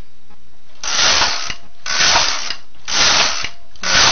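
A knitting machine carriage is pushed back and forth across the needle bed to knit rows on a cast-on rag, four loud, close mechanical ratcheting sweeps with short pauses between them.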